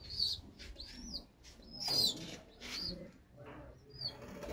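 A high-flying pigeon coos faintly and nearby, with a few soft, brief calls spread out over a quiet background.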